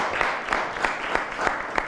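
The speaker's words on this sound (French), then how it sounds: "Je veux qu'on applaudisse encore une fois pour Samia." Applause from a small group, with a handful of distinct, evenly spaced claps standing out above a soft background of clapping.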